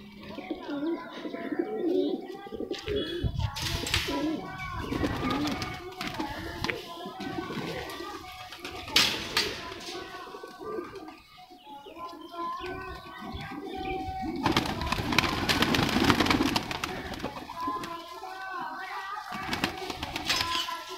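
A white-eyed female racing pigeon coos in repeated low, throaty phrases among other birds in a loft, with bursts of noise and faint voices now and then across the stretch.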